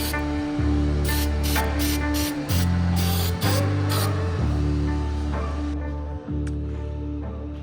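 Weld-through coating sprayed from an aerosol can onto a car body, heard as loud close hissing bursts, several short ones and then a longer one, over a steady low mechanical hum.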